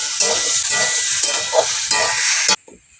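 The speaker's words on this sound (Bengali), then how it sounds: "কিছুটা পেস্ট করা আদা, জিরে, ধনে এবং গোলমরিচ। দিয়ে একটু নেড়ে চেড়ে দেবো।" Ginger paste, cumin, coriander and pepper stirred in a hot pan, with loud close sizzling and frying and scraping strokes of a spatula for about two and a half seconds before the sound cuts to near quiet.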